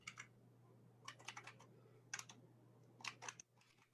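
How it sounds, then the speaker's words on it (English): Computer keyboard typing in quiet bursts of clustered key clicks, several short runs separated by pauses over a low steady hum, no voices. "Now, I'm typing it in there just so that people can see it."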